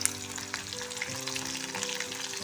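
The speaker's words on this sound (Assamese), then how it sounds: "লং, ইলাচি, দালচেনি দিলোঁ আৰু কাটি লোৱা নহৰু কেইফুটা" Cloves, cardamom, cinnamon and chopped garlic crackle and sizzle in hot oil in a pan for a pepper chicken dish, a steady close fry with faint hum underneath.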